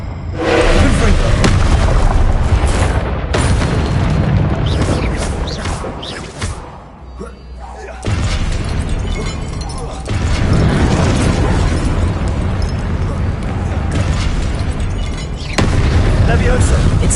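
Confringo spell blasts in the video game Hogwarts Legacy go off as repeated loud booming bursts over game audio, with a quieter lull between them.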